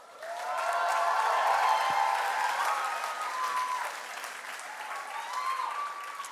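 An audience at a cultural show applauds after a dance performance, the clapping swelling quickly, holding steady and then easing slightly, with a few faint cheers from the crowd.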